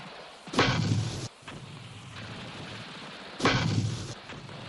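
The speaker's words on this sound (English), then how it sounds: "One weapon highly valued by the crews of armored vehicles and by foot soldiers was the M79 grenade launcher, called the Duper from its sound" An M79 grenade launcher firing twice, each a loud thumping report about three seconds apart with a short decaying tail, over a steady background hum.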